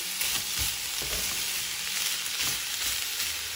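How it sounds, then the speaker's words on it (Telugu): Jaggery melting in a pan while being stirred for a coconut laddu syrup, giving a steady close sizzle with scraping stir strokes throughout, no talk. "ఇప్పుడు ఈ బెల్లం కరిగేట్లుగా ఇలా తిప్పుకుంటే బెల్లం కరిగి మనకి కొంచెం పాకం వచ్చే వరకు కూడా దీన్ని తిప్పుకుంటూ ఉండాలి."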